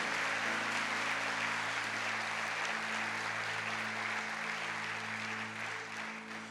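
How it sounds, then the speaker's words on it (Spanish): A full church congregation applauds loudly and continuously for several seconds over sustained keyboard chords, the clapping dense and even before easing slightly at the end. "pues denle un fuerte aplauso al Señor si usted lo cree"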